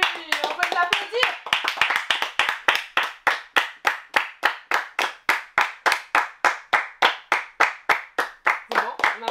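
Children and friends at a birthday party clap together in a steady, even rhythm of about three loud, close claps per second, with children's voices chattering over the first couple of seconds.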